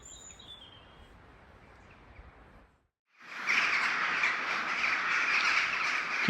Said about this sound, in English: a million crows flying around.